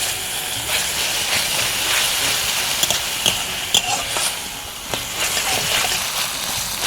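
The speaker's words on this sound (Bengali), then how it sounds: "হলুদের গুঁড়ো দিয়ে দিচ্ছি ধনের গুঁড়ো মশলাটা খুব ভালো করে কষে নেব" Turmeric and coriander powder masala with a splash of water fries in a pan, hissing steadily while a spoon stirs it with scattered sharp clicks and scrapes.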